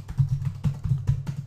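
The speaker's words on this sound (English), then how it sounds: "I'm typing very well." Keys clatter as someone types steadily on a computer keyboard, a fast, uneven run of close, soft clicks and taps with a dull low thud beneath them.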